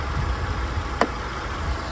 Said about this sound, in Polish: jest charakterystyczny taki cykanie, to właśnie paliwo jest dostarczone do komory spalania